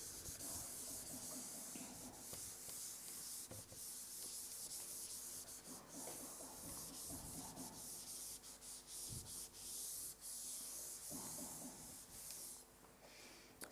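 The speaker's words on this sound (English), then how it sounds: "after that I am rubbing off this sentence" A board duster rubbing writing off a classroom board, a steady scratchy swishing that runs almost without pause, with short bumps and strokes throughout.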